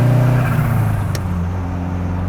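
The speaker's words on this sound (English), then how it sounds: "Oh, it makes all the right turbo noises." A slammed Alfa Romeo Spider with a turbocharged engine revs up close, a strong droning engine note with a brief sharp hiss partway through, then settling into a steady idle-like hum.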